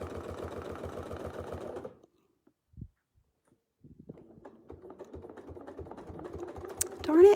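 A sewing machine stitches fabric in a fast, rhythmic mechanical chatter, stops for a quiet pause with one small click, then starts again more softly and builds back up.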